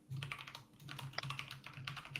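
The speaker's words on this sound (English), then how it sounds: "The loudness of the clattering from Mark's keyboard." A computer keyboard clatters loudly during fast typing, with dense irregular keystrokes close to the microphone and no talk.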